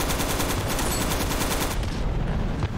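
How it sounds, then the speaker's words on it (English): An autocannon hammers out a rapid, evenly spaced stream of heavy shots in Ravenfield, loud and close, then stops abruptly near the end, leaving a lower rumbling background. "I've got the autocannon. This is what it's like."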